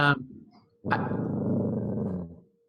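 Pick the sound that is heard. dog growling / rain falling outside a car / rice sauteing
dog growling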